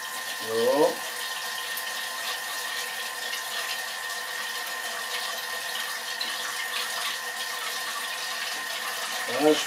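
A running Thermomix TM5 churns steadily as olive oil is poured slowly in for egg-free Spanish aioli, a constant whirring hum with a faint liquid texture, and brief bits of speech at the start and end.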